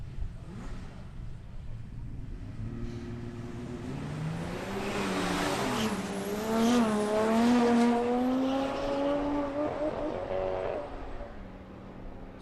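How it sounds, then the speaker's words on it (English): A turbocharged BD Falcon drag racing car makes a run at Palmyra Raceway. Its loud engine roar builds and climbs in pitch for several seconds, then eases off near the end. "BD Falcon, turbocharged car."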